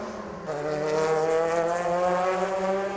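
Loud race car engines at the 24 Hours of Le Mans roar past at close range, bursting out of the forest at the end of the Mulsanne Straight, a high, steady whining drone of several cars in quick succession.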